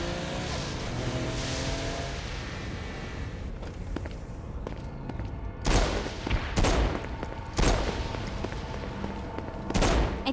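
Gunfire from the video game Saints Row: Gat Out of Hell sounds over a constant game din, with loud, sharp bursts of shots coming in clusters near the end.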